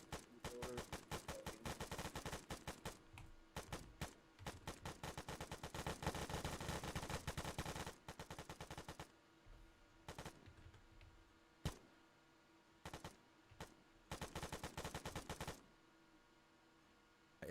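Rapid bursts of gunfire from magazines being emptied in the video game Arma, long continuous strings of shots broken by brief pauses and reload gaps, then shorter bursts and single shots near the end.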